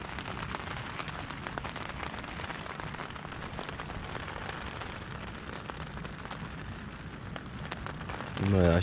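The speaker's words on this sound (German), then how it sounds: "jetzt fing es nochmal an, kräftig zu regnen" A dense, steady hiss of heavy rain pours down with constant patter on surfaces, continuous throughout.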